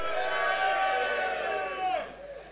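A live-show crowd at the Sugar Club cheers and whoops loudly, a sustained roar of many voices that swells and then begins to fade near the end.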